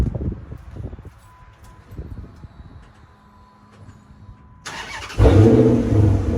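A 2006 Dodge Charger R/T engine cranks and catches near the end, breaking into a loud, close running roar after a stretch of quieter outdoor background noise.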